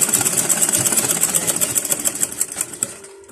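A sewing machine stitches fabric for a scrunchie, a fast, loud, even mechanical whirr with a rattling needle rhythm that slows and stops near the end.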